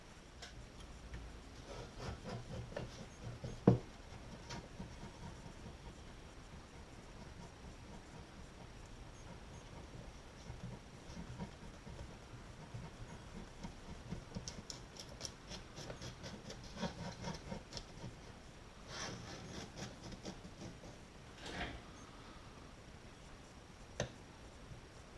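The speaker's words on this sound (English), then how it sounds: "I want to go ahead and remove all the veneer from the cabinet" Veneer being scraped off a wooden Silvertone 'Companion' radio cabinet, faint intermittent rasping and scratching strokes in irregular bursts with occasional sharp ticks, quiet and close.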